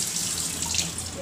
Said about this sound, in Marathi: हे असे चाळणे घेतले आणि असा भोपळा धुवायचा